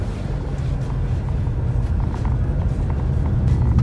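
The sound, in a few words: Jeep Renegade diesel engine at high revs in low gears, sand mode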